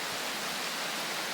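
Rain falling in the survival hiking game Prologue, a dense, even hiss of steady rainfall that stays constant throughout, close and uninterrupted with no voices.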